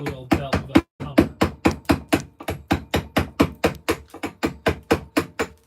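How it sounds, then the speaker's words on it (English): A hammer strikes a steel chisel carving stone, about twenty sharp metallic blows in a steady rhythm, loud and close, with a brief pause early on. "holding the chisel and you give it a good old belt with a hammer"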